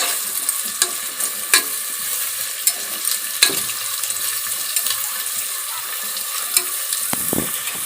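Three medium onions, sliced, fry in a pan until reddish-brown for Odia-style chicken biryani, giving a steady close sizzle broken by occasional clinks and scrapes of stirring.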